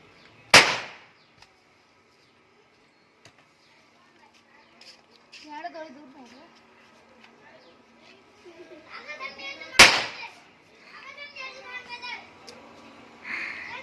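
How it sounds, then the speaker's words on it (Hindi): Children set off firecrackers during the Barsana Parikrama, with two sharp, loud bangs several seconds apart and excited kids chattering in between. "पटाखे चला रहे।"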